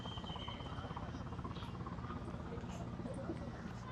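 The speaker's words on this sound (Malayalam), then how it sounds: "ഒരു ഹെലികോപ്റ്ററിൻ്റെ സൗണ്ട് കേൾക്കുന്നുണ്ട്, പക്ഷെ കാണുന്നില്ല" A distant helicopter hovers near India Gate in Delhi, its steady low rotor thrum running continuously beneath a dense wash of open-air city ambience.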